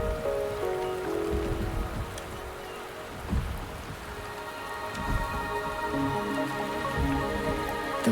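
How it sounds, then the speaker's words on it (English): Steady rain pours down in the video game Wuthering Waves, a dense even patter on surfaces with faint low rumbles underneath, running continuously without any voices. "The rain is subsiding, and the sky will soon clear."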